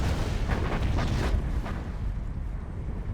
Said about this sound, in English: So artillery now from another player.